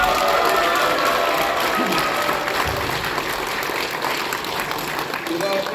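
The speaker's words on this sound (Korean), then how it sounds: "한 번 더 박수 부탁드립니다" Sustained audience applause fills a hotel function room during a book launch event in Daegu, loud and steady throughout with no break.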